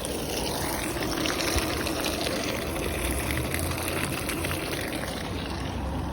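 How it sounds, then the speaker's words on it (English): Water from a hose rushes and drains through a rusty Honda CRX fuel tank, making a constant, close, broadband gushing with no voices. "Pretty much I just sprayed it with the hose."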